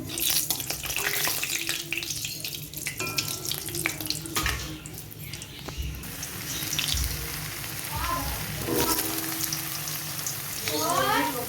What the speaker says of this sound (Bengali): কালো জিরে আর শুকনো লঙ্কা ফোড়ন দিয়েছি আলুগুলো দিয়ে দেবো